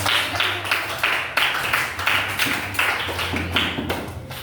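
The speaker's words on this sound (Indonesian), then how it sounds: "Iya, tepuk tangan untuk kelompok jeruk." Pupils in a classroom clap for the orange group during an Indonesian language lesson, a brisk run of overlapping hand claps lasting a few seconds, fairly near with little talk.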